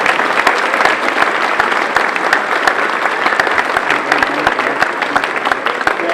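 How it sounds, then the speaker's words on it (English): A crowd at a high school football banquet claps in a steady, lively round of applause, dense and continuous with some sharp individual claps standing out, no speech over it. "Let's give them all a big round of applause,"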